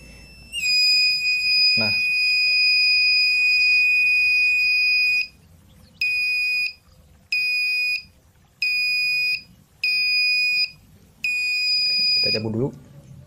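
A shrill electronic buzzer of a simple homemade anti-theft alarm built without a microcontroller sounds one long tone, then pulses in five shorter bursts with brief gaps between them, followed by a final longer burst.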